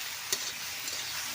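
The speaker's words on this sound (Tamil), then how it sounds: "இப்போ நம்ம வெண்டைக்காய் சேர்த்து வதக்கிக்கலாம்." Okra sautés in oil in a pan as a steady, hissing sizzle, with one brief clink of a spoon against the pan, close and unaccompanied by voices.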